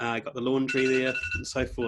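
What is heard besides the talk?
telephone ringing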